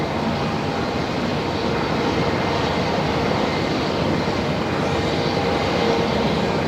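Jet aircraft engine roar at Melbourne Airport, a steady loud broadband rumble and hiss holding constant throughout with no speech.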